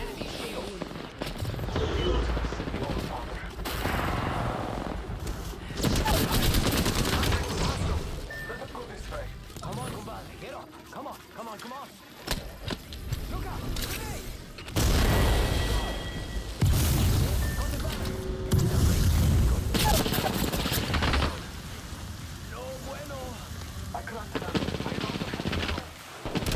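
Video game combat with sustained automatic fire, repeated gunshots and booms in loud dense bursts over nearly half a minute, while a voice talks intermittently over the shooting.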